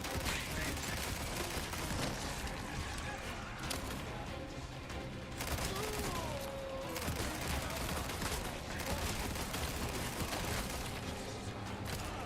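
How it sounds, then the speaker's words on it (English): A Matilda, a rapid-firing submachine-gun-style weapon in a video game, fires in dense overlapping bursts that run nearly unbroken, with booms and mechanical clatter filling the mix. "we using the Matilda now. This thing is practically a submachine gun"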